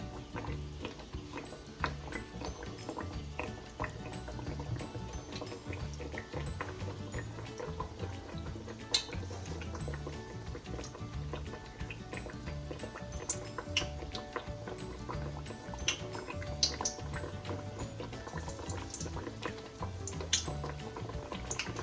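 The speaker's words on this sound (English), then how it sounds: "we are just going to drop a few pieces in there once we're confident that the oil is hot" Pieces of food dropped into hot frying oil set off a continuous fine sizzling and crackling with small irregular pops, steady and close throughout.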